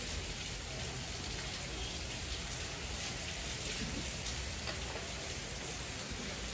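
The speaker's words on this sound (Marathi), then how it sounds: "पाऊस चालूच आहे." Steady rain falls outside, a dense, even wash of drops pattering on surfaces that holds at the same level throughout with no voices over it.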